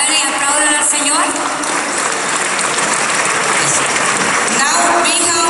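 A congregation at a Catholic healing retreat in Rancagua claps loudly in praise, producing a dense, continuous roar of applause that fills the room evenly from start to finish.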